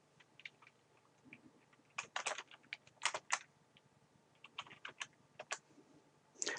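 Fingers typing a file name on a computer keyboard, bursts of crisp, close key clicks at an uneven rhythm with short pauses between clusters, quiet and alone.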